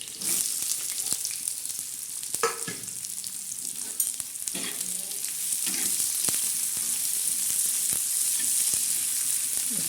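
Onion sautéing in a pan with garlic and salt for a prawn and onion chutney: continuous sizzling and crackling punctuated by repeated knocks and scrapes of a spoon stirring.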